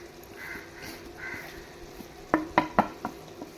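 Chicken sukka, Mangalore style, gets stirred with ground chili and coriander masala in a pan: a soft frying sizzle, then a quick series of sharp spatula scrapes against the pan.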